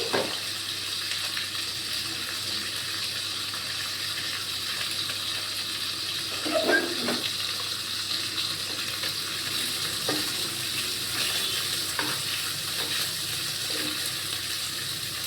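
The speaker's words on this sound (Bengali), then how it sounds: "এখানে আমি কাতলা মাছ ভাজা বসিয়ে দিয়েছি।" Catla fish pieces fry in a pan with a steady, moderate hiss that runs throughout, broken by a few soft clinks and bumps.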